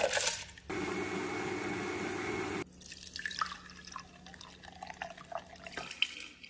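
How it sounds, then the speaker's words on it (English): Three cups of water poured over rice and a cinnamon stick to soak, a steady rushing pour lasting about two seconds, followed by quieter drips, trickles and small clinks. "Add 1 cinnamon stick and 3 cups of water for it to soak in."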